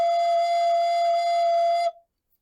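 A recorder sounding a single sustained F, a pure steady tone held for about two seconds that then stops cleanly, played alone.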